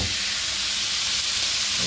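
Chicken wings sautéing for lemon Coke wings sizzle steadily as cooking wine hits the pan, a dense continuous hiss with no talk.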